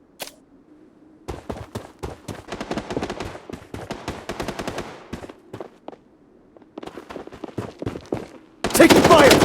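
Bursts of automatic rifle fire crackle in the Project Bloodstrike shooter, rapid M4 volleys and scattered single shots in close succession, ending in a loud sustained blast, with a voice briefly calling out between them.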